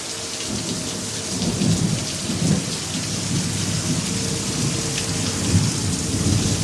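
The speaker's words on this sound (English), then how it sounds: "Very strong thunderstorm." Steady heavy rain pours through a strong nighttime thunderstorm with a tornado warning in February, with low thunder rumbling continuously beneath it; no voices are heard.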